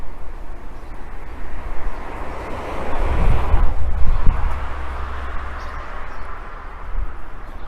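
Strong outdoor wind buffets the microphone in a garden after a storm, a steady roaring rush with gusts swelling louder midway, a low traffic rumble underneath and no talking.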